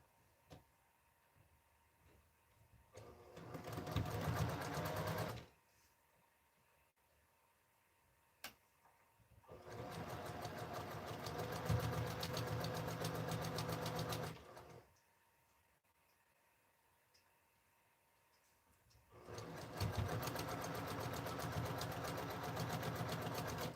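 A sewing machine stitches fabric scraps for a quilt in three steady runs of rapid mechanical whirring, separated by quiet pauses with a faint click, close and alone without speech.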